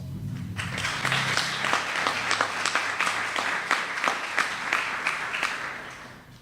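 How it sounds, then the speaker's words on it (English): Audience applause for donors at a donor appreciation ceremony, a steady wash of many hands clapping with sharper individual claps standing out, sustained throughout at moderate volume with a low murmur underneath. "You deserve a round of applause."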